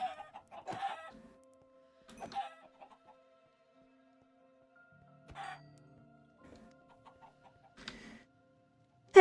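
Chickens in a modded Minecraft game give sparse, short clucks and squawks spaced several seconds apart, clear and close against near silence.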